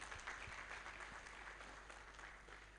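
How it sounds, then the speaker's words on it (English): Faint, distant applause from a conference audience at a PMI Togo chapter annual event, a soft steady patter of many hands held at low level. "So if we can all give a round of applause to the PMI-TOGO chapter and the board."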